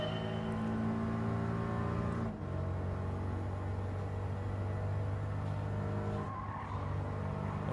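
A race car engine in Gran Turismo 7 drones loudly and steadily at full throttle, with strong low harmonics and a brief dip as it shifts, and tire noise mixed in.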